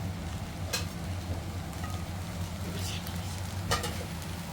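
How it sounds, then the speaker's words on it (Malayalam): Chicken fried rice with scrambled egg and fried chicken pieces stirred in a hot pan, giving steady close sizzling broken by a few sharp spatula scrapes and clicks. "ഇനി നമുക്കിത് ഒന്നുകൂടി ഒന്ന് നന്നായിട്ട് മിക്സ് ചെയ്തെടുക്കാം"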